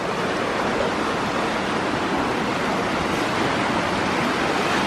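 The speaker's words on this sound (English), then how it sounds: "See all this water rushing down before I get my feet wet." Steady, loud rush of a stream flowing down a hillside trail in Alabama, a dense unbroken roar with no pauses, close by.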